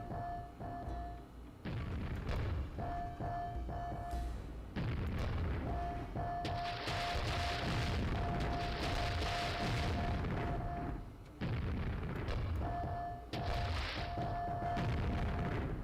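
Grenade blasts in the MS-DOS game Quake, run on a Pentium 200 MHz machine: a series of heavy booming explosions, roughly five, each with a rumbling tail, some overlapping, under a steady tonal hum, with no voices.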